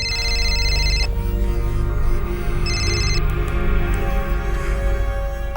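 A phone rings with a bright, repeating electronic tone in two bursts, over a steady low background hum, with no talking during the ring.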